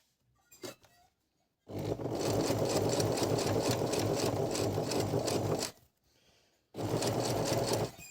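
A Singer 822 sewing machine runs in two stitching bursts: a long, loud, even mechanical whir of about four seconds, a brief pause, then a second run, with small handling clicks before the first burst.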